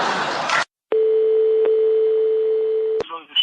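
A brief burst of noise is followed by a steady, loud telephone tone after a call is hung up, lasting about two seconds. A click cuts in partway through, and the tone breaks off into a short clatter.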